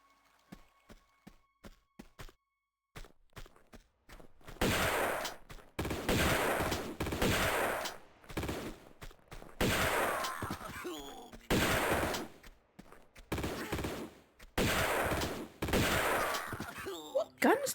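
Repeated bursts of enemy gunfire in Tomb Raider Remastered, loud volleys arriving in clusters every second or two after a quiet start with scattered footsteps.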